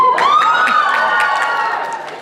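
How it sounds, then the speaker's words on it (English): A convention masquerade audience cheers and shrieks loudly, high excited voices rising at once and then fading slightly over two seconds, with no speech on top. "noticed none of the guys joined in that cheer"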